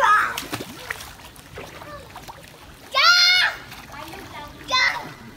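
A child swims and splashes in cool water in the Philippines, with small sloshing splashes under high-pitched children's voices and squeals.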